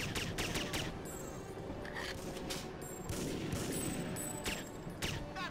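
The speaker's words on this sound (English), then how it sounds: "That's some slick shooting, man." Gunfire in TimeSplitters Future Perfect comes in rapid bursts of sharp shots and clattering volleys, steady and fairly faint, mixed with game effects throughout.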